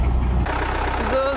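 A Mercedes 508 van engine runs after a push start, a low steady rumble close by with a brief shift partway through, under faint background noise.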